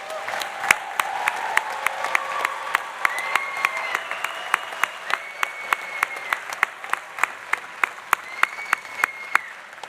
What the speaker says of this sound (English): How about one more round of applause for these graduates?